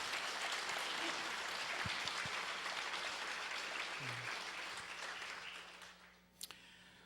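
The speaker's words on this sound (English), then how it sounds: "let's take a minute and give these folks a round of applause for their help" An audience gives a sustained round of applause at a screening of a documentary about Stateline Speedway, dense steady clapping that holds for several seconds before tapering off, with a couple of final claps at the end.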